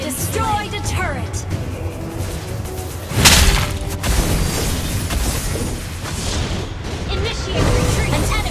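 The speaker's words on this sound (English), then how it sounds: "Ally team destroyed a turret." A turret explodes in the Mobile Legends mobile game, a sharp boom standing out over busy battle effects, music and game announcer voice lines.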